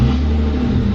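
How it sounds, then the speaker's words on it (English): BMW E36 engine idling rough and low just after a cold start, a close steady rumble with a throaty exhaust carrying a section of welded-in pipe. "That cold start rev."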